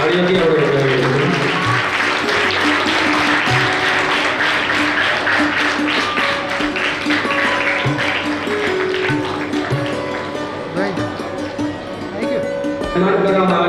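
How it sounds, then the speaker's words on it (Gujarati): An audience claps in loud, sustained applause at a primary school principal's farewell ceremony, dense and continuous throughout, with voices heard over it at times. "તાળીઓથી આપણે વધાવી દઈશું."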